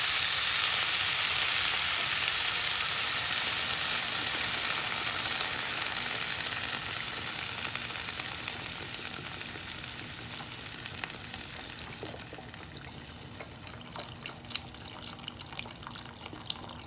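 Asparagus soup with vegetable broth or water simmering in a pan on the stove, a steady close sizzle and bubbling hiss that slowly softens over time, with no voices.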